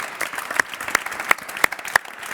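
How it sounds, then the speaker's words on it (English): At a food innovation breakout session, a small audience applauds the speakers, giving light, moderately close clapping with a few sharper individual claps standing out in a steady rhythm. "we want to give a big hand of applause to the speakers"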